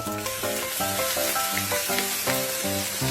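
Thai fried rice sizzling and frying in a hot wok over high heat, stirred and tossed in repeated scraping strokes, loud and close, with no talking.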